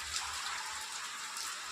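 Rain falls over a rural farming area as a steady, even hiss of drops, continuous and moderately loud, with a faint low rumble underneath and no voices.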